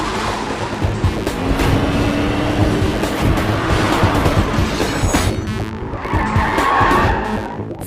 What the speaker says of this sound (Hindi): तेज चला, गाड़ी तेज चला